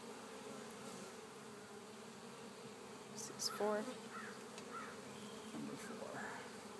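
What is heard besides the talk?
honeybees buzzing in a beehive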